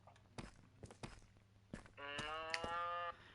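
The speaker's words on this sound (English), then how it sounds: "to breed the cows." Cows in the video game Minecraft moo twice in a long, drawn-out, close call after several soft footstep-like thumps.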